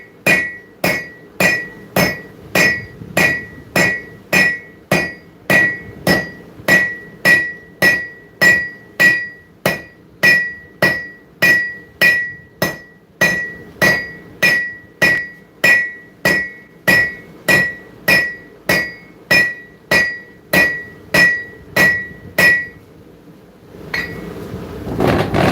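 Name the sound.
hammer forging on anvil horn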